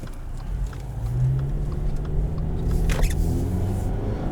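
A 2021 Subaru Impreza Premium accelerating in sport mode, heard from inside the cabin as a steady low engine drone rising gently in pitch beneath road rumble.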